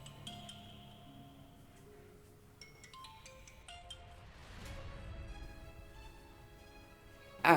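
A mobile phone rings with a soft melodic tone of repeated chiming notes, fairly quiet and alone, ending with a brief louder knock.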